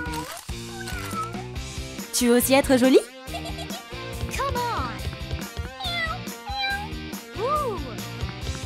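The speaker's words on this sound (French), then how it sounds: "Le chat veut de l'attention." A cat meows repeatedly and close by, its cries rising and falling over steady background music, while someone talks to it.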